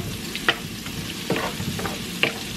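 Mushrooms sizzle steadily in a frying pan, a soft continuous crackle broken by a few sharp stirring clicks, close and moderately quiet, with no talk.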